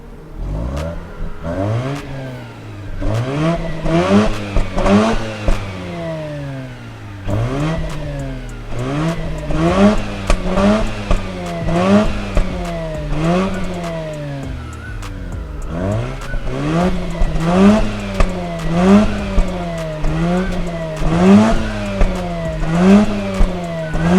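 A Mazda RX-8's exhaust revs hard again and again, the engine note sweeping up and dropping back in quick repeated bursts, loud and close.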